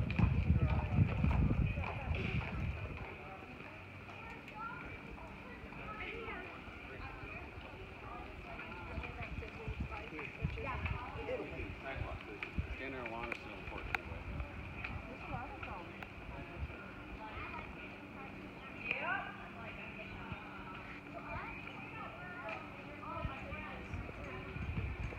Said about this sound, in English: You can hear the clip-clop of horses and carriages.